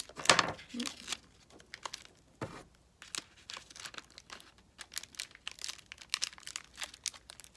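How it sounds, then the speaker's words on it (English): Paper legs being taped onto a small handmade ArtBot tripod, with irregular crinkling, rustling and tape-tearing noises near at hand, some quick sharp bursts and quiet gaps, faint talk mixed in. "Okay, so I'm taping them on."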